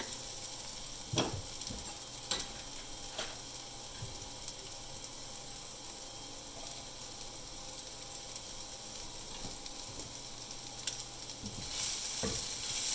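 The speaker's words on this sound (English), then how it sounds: "And I'm going to add my garlic." Garlic sizzling in a pan for homemade pad thai, a quiet steady frying hiss with occasional clinks and scrapes of stirring, a brief louder burst near the end, no talking.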